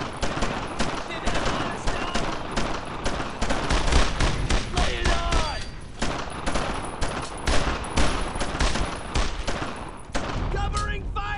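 Rapid bursts of rifle and machine-gun fire from a World War II battle in the Brothers in Arms video game crack loudly and nearly nonstop, with overlapping shots, explosions and shouted voices throughout.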